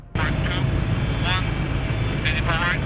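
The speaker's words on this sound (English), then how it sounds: "At the mountain peak, the Griffin helicopter lands gingerly and ejects a small team of soldiers." A Griffin military helicopter comes down onto an Arctic mountain peak with soldiers aboard, its rotor and engine noise a steady, loud drone throughout, overlaid with a rushing wind-like hiss.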